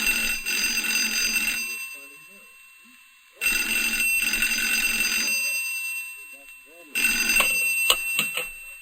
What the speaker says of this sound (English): Studdy received a phone call.